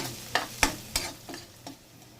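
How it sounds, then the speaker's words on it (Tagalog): Pork browns in a pan for dinuguan with a low sizzle, broken by five sharp stirring scrapes in a steady rhythm. The sound is close and fairly quiet, with no talking. "Atong pa-brownan karon humot ang resulta sa atong dinuguan."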